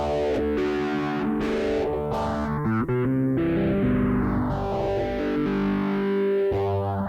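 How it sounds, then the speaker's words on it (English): Distorted electric guitar drenched in a sweeping phaser, its tone swirling up and down continuously as sustained notes ring out. "there's the phase shifter sound"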